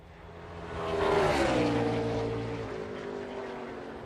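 A NASCAR race car at the 2022 Sunoco Go Rewards 200 practice and qualifying roars as it rolls over the curbs, its engine revs swelling and shifting pitch as the car passes.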